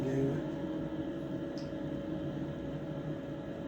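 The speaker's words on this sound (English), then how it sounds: "Apologies for the background noise. The diesel heater's on." A diesel heater runs with a steady, droning mechanical hum and constant whirring tone, continuous at a moderate level with no other sounds.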